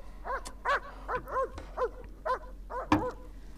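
A dog yaps and whimpers in a rapid series of short, high, whiny barks, about eight in under four seconds, fairly close and alone against a low hum.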